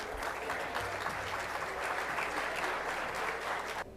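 An audience claps for presidential candidate José Domingo Arias at a business conference, a sustained wash of applause at moderate volume that holds evenly and then cuts off sharply near the end.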